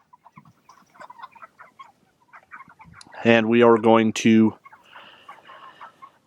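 Chickens on a pasture farm: soft scattered clucks and rustling, then a loud, close run of harmonic squawking calls lasting about a second and a half, with someone speaking briefly underneath.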